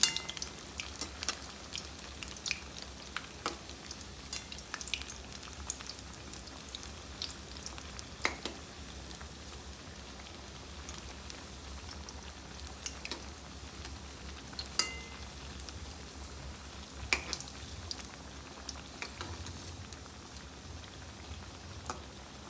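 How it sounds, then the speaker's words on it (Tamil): Cassava vadas deep frying in hot oil give off a steady, soft sizzling crackle with scattered sharp pops, fairly quiet and continuous throughout, with no voices. "இந்த வடை எல்லாமே பொறிஞ்சிட்டுது பாருங்க"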